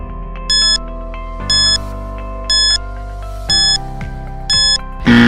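A quiz countdown timer plays a looping electronic chime tune, with bright bell-like notes repeating about once a second over a steady tonal backing. It is loud and close, and no one speaks.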